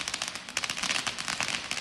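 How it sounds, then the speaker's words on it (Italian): Firecrackers crackle at night in a small town piazza, a rapid dense string of sharp pops and snaps going off continuously, fairly loud and unbroken, with no talk. "I botti hanno risuonato nel quartiere svegliando e allarmando molti residenti del vicino residence"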